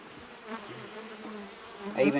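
Honey bees buzz and drone close by at the hive, a dense humming that swells louder toward the end.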